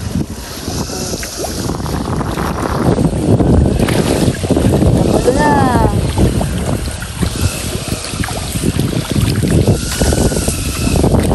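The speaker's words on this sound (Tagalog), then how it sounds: "gawa po ng malakas po ang hangin" Strong wind buffets the microphone in a steady, loud roar, with water and boat sounds beneath and a brief spoken remark, at a milkfish fishpond during feeding.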